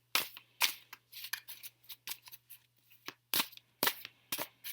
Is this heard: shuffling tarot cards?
yes